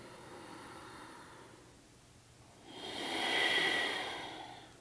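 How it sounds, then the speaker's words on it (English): Steady, deep breaths during yoga practice, close and soft, an exhale swelling into a louder airy rush near the end, with no talking. "1, 2, steady breathing."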